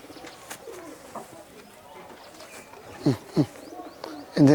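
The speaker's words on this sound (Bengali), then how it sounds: "এই হচ্ছে আমার দোয়াশ জোড়া, সব থেকে আমার বাড়ির মানে সেরা পায়রা" Pigeons from a prized pair kept for sale in Kolkata give several low cooing bursts, a few close and distinct near the end, over a quiet room with some talk in the background.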